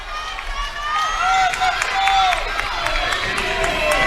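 Crowd noise in a gym at a girls' high school basketball game between Jefferson and Ida B. Wells, a steady roar of cheering with squeaking shoes on the court, heard throughout at moderate distance.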